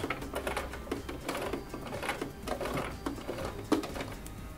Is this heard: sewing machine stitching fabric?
yes